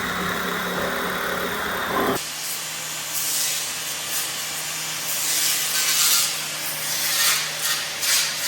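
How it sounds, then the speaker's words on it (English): A Sawzall shaves the weathered wood logs of an Alaska hybrid log home, giving a steady, close, abrasive hiss and rasp that carries on without pause after a brief lower-pitched start. "We're going to use a Sawzall,"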